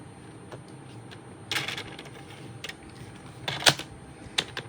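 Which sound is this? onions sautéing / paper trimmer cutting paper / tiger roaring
paper trimmer cutting paper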